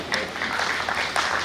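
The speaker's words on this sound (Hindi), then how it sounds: "बस मेरे लिए थोड़ी तालियां बजा के रखिएगा" Brief burst of audience clapping at a Hindi poetry recital, dense and steady with a few louder claps standing out, filling the whole moment without speech.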